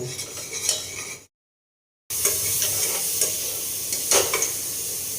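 Spices for a tadka sizzling and frying in a pan on a home stove, stirred with a metal utensil: continuous close hiss and crackle with scraping stirs, cut by a short silent gap before the sizzle resumes.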